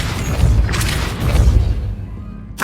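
Depulso, a force-pushing spell cast in the video game Hogwarts Legacy, lands as a heavy booming thud with crashing mechanical debris, loud and close, fading off before a brief burst at the end.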